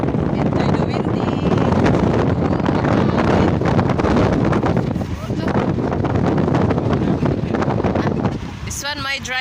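Strong wind buffets the microphone from a moving vehicle, a constant loud rumbling gust with rustling, easing briefly midway before a voice cuts in at the end.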